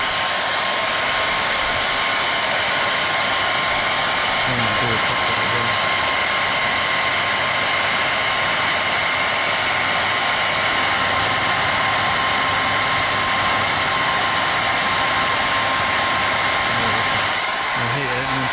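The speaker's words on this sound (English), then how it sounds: "I'll heat it and then pull it out again." Loud, steady roar of a heat gun or hair dryer held close while heating tint film on the rear lights of an EP3, a continuous blowing hiss with a faint whine that never lets up, with brief speech in the background.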